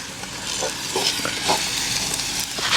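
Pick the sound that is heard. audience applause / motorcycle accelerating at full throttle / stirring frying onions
stirring frying onions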